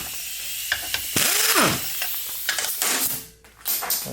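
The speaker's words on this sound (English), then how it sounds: "we're going to take your selector arm here loose with 11/16 wrench" A wrench works the selector arm nut on a Chevrolet TH350 automatic transmission, giving metallic ratcheting clicks and clanks with a short scraping squeal, close by and with no talking.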